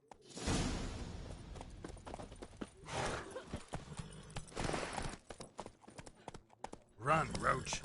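Horse hooves clip-clop at a gallop in The Witcher 3 video game, a steady run of hoofbeats with whooshes and game sounds, while voices talk over parts of it.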